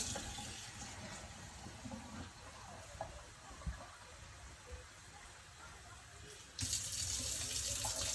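Warm tap water running from a faucet into measuring cups while making bread dough, a steady splashing stream that surges louder near the end, with no talk over it.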